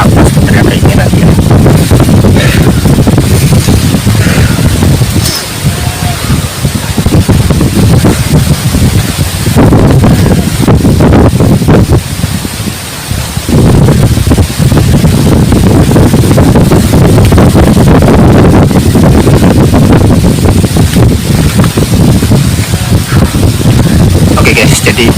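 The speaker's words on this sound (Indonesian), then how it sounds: "Ini juga ada banyak angin" Strong outdoor wind buffets the microphone in a constant loud roar with gusty swells over nearly half a minute, a voice speaking underneath it.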